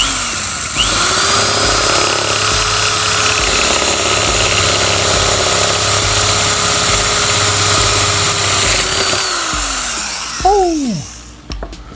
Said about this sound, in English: I'm gonna get the big electric drill with the original big hole.